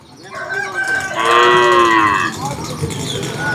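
Cattle at the Anthiyur cattle market beside the Gurunathswamy temple, one cow giving a long, loud, close moo that rises and holds, with faint background bustle and a brief fowl-like sound.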